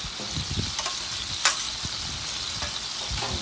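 Rice fries on an oiled griddle with a loud, close, continuous sizzle and scattered scraping and stirring clatter from a spatula, with no talk.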